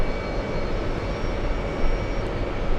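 A small Embraer E175 jet pushes back from a gate at JFK airport, giving off a steady, fairly loud broadband engine whine and hum that holds constant with no speech.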